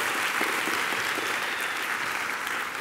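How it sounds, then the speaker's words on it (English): Applause sounds as one person claps for a space telescope's 20-year lifetime, a steady, dense patter of hand claps that carries evenly for a few seconds. "you got at least one person applauding for the for the 20-year lifetime"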